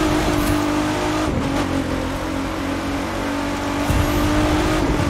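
A car engine roars loud and steady in The Crew 2 racing game as a car passes by, with a sustained rumble and no talk.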